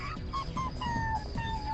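A dog whimpers in thin, high whines that rise and fall over a steady background bed of noise.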